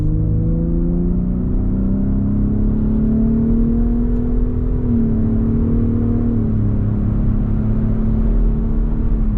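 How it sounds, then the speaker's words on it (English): A Gen 3 Raptor pickup truck's engine drones loudly from inside the cab as it accelerates up a freeway on-ramp, pitch climbing steadily, then shifting and continuing to rise, with road rumble underneath. "We got our first freeway on-ramp, so we're gonna get a little acceleration test right here"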